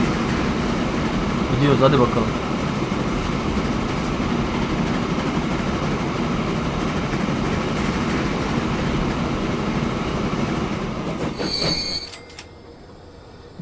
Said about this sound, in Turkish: Baksanıza köprü, tren geçiyor köprüden.